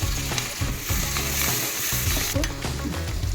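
Tomatoes frying and being stirred in a pan while cooking egg sambar, a steady close sizzle with scraping stir strokes throughout, no voices.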